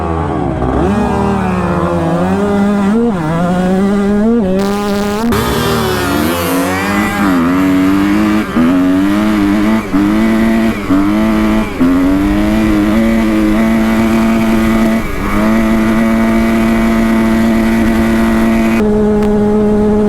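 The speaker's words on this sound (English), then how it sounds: "He's just like sitting on the rev limiter in the top gear." A dirt bike engine screams at its rev limiter in top gear as a 250F races a KTM 125, a loud, sustained high-pitched whine that rises through gear changes before holding steady and bouncing off the limiter.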